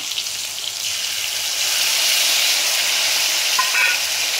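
Ginger and green chili paste sizzles in hot oil in a pan for a Bengali fish curry, a steady close hiss that grows a little louder partway through, with a faint clink near the end.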